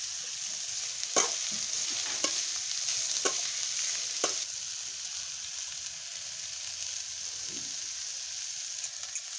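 Sprouted grains go into a frying pan and are stirred, a faint steady sizzle punctuated by a few sharp utensil clacks against the pan, with no voices.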